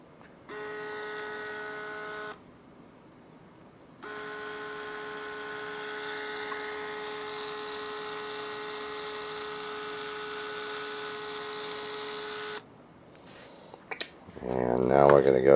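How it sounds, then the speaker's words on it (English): A Rollease motorized window shade motor whirs with a steady tonal hum in two runs, a short one and then a longer one after a pause, followed by brief handling noise. "here is the second motor, which is going to be the Rollease motor"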